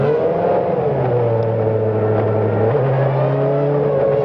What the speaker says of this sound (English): Hear the engine revving.